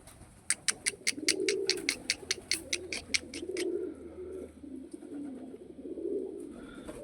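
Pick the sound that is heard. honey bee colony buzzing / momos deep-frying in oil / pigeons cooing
pigeons cooing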